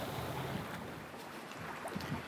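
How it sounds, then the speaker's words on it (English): Steady wind and water noise aboard a sailboat at sea on a gentle broad reach in about 10 to 12 knots of breeze, a continuous soft rushing wash with faint gusts and splashes, no voices. "We've got about 10 to 12 knots of wind on a gentle broad reach"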